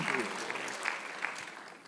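Church congregation clapping during a Sunday worship sermon at a Korean church, a steady dense patter from many hands with a few louder accents, moderately distant and continuous throughout.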